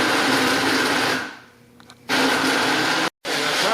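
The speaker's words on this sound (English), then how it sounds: "pop it in, turn the blender on" Blender on its smoothie setting blending a berry smoothie, a loud steady motor whir that drops away briefly, returns at full strength, then cuts out for a moment before resuming.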